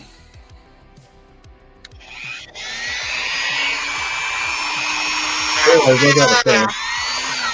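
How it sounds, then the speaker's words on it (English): A Dremel rotary tool spins up partway through and runs with a high, steady whine near the microphone, working on an action figure customizing project while someone talks over it and music plays in the background. "Turn my Dremel on"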